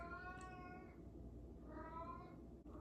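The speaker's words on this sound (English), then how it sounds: "my cat just starts crying at the top of his lungs" A pet cat cries out in two drawn-out, wailing meows, the second rising and falling, faint and slightly distant indoors over a low room hum.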